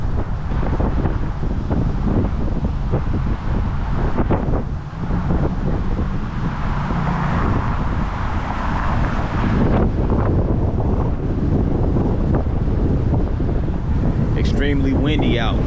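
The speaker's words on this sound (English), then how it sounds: "Extremely windy out." Strong wind near the Tennessee riverfront in downtown Chattanooga, buffeting the microphone with a loud, steady rumble throughout and a faint high squeal near the end.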